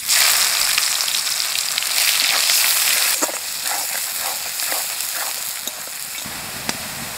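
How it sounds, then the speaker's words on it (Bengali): Onions with bay leaves and cumin sizzle hard in hot oil for a fish curry, a loud steady crackling hiss with scraping stirs breaking through, close up and without speech. "পেঁয়াজ ভাজা হয়ে গেছে"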